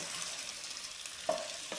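Besan snack pieces stirred into a sizzling tadka tempering in a pan, giving a steady soft frying hiss with a brief clink of the spoon near the end.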